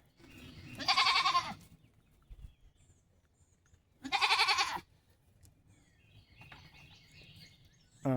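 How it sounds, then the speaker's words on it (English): Goats on a homestead bleat in two loud, drawn-out calls about three seconds apart, each wavering and nasal, with a fainter animal cry near the end and quiet farmyard background between. "So this is where we keep the goats."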